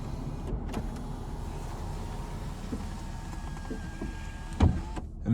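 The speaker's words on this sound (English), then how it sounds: "here we have our power sunroof, so we can one touch open or close that" A power sunroof in a 2017 Lexus RX 350 with about 75,000 miles runs in one touch, giving a steady, soft electric motor hum inside the quiet cabin, ending with a faint thump as it stops.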